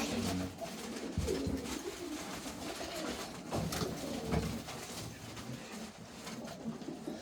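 Racing pigeons coo repeatedly in low, soft murmurs, several birds overlapping, with rustling and faint background noise.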